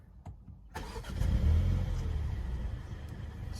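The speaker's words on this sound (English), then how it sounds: "Let's start the car in sport mode." A BMW 128ti engine is started in sport mode: a quick starter crank followed by a muffled rumbling idle that settles to a steady, fairly subtle hum, close by.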